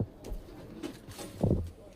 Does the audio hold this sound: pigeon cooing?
yes